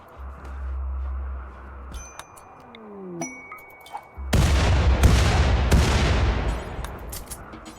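Bombs going off in the RimWorld colony game, a sharp blast at about four seconds followed by a loud, sustained roar of explosions with repeated cracks, after a quieter low rumble with a few faint tones and pings.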